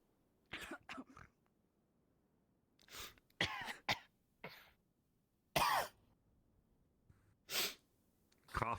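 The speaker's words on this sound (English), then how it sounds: "Cough noise." Several separate bursts of coughing and throat clearing from a person in a VRChat roleplay session, close and loud, with quiet gaps between fits.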